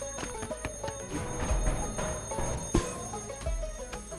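An alarm rings in Goat Simulator 3 on PS5, a dense, continuous electronic ringing layered over busy game noise and low thumps, loud and steady throughout without any voices.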